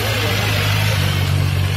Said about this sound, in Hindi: अब बारी आती है BMW S1000RR की साउंड का